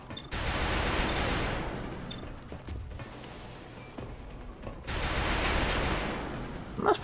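Gunfire in the strategy game XCOM Long War: two long bursts of rapid, dense shots with a quieter stretch of rumbling and scattered noise between them, moderately loud and without speech.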